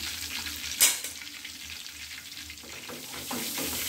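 Chicken katsu fries and sizzles in a pan over moderate heat with a steady crackling hiss. One sharp clatter of the pan or utensil comes near the start, and no one speaks.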